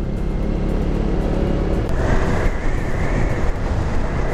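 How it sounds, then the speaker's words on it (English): Heavy army trucks grind along a mountain road on the approach to Kargil, a continuous loud engine rumble that thickens partway through as more vehicles crowd close. "And I got stuck in between all these army trucks."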